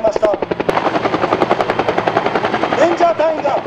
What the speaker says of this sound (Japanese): レンジャー隊員を搭載した多用途ヘリコプターが上空から侵入してまいりました。